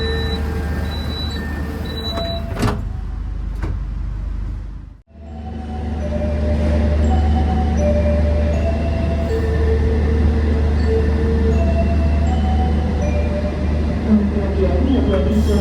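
A train departs and rumbles steadily on the rails at an Indonesian station, low and continuous, with brief platform announcements and tones over it and a short gap midway.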